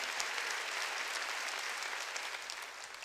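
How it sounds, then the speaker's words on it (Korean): A church congregation at a Sunday worship service applauds steadily, a dense, even wash of many hands clapping at a distance with no voices on top. "박수로 하나님께 영광을 드려요."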